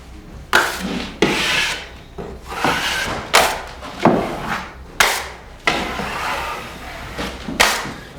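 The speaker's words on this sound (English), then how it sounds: "run it down each edge, cleaning off the excess joint compound and pushing the tape into the compound" A drywall knife scrapes repeatedly along paper tape, squeezing out excess joint compound on a wall seam in long rhythmic rasping strokes, about ten passes, close and fairly loud.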